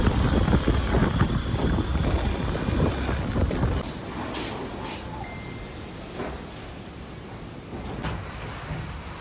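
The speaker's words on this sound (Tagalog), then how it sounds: "Guys, malakas ang hangin!" Strong wind from Typhoon Uwan roars and buffets steadily, loud and close, with constant low rumbling gusts that ease slightly partway through and no voices heard.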